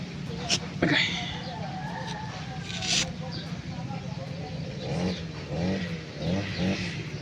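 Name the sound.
motorbike passing by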